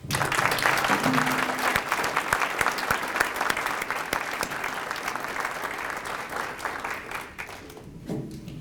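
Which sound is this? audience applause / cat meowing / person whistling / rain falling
audience applause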